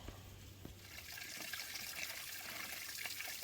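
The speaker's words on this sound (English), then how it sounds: "there's a little waterfall, a little natural spring coming out of the side of the hill" Water from a natural spring runs out of a hillside beside a trail as a small waterfall, making a soft, steady trickle that carries on without a break.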